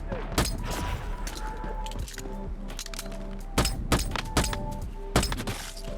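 An enemy fires a shotgun from long range in the video game Once Human: sharp, irregularly spaced blasts crack over a low background hum, with a few louder reports clustered near the end.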